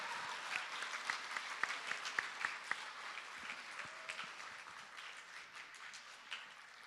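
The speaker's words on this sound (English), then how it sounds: "So can we give them a really, really big round of applause?" Applause from a middle school audience in a hall for the sound and lighting crew, a few sharp distinct claps up front blending into steady, fairly faint clapping.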